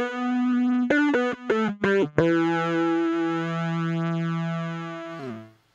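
Synth pedal tone built from two sawtooth waves, the second slightly detuned for width: a sustained buzzy note with a brief run of stuttering, re-triggered notes near the start, then a steady held tone that drops lower and cuts off.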